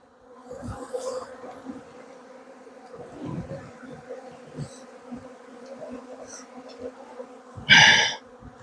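Honey bees buzz around an opened beehive during a honey harvest in Adana, a continuous close droning hum with scattered louder passes and handling knocks, ending in a sharp loud rustle.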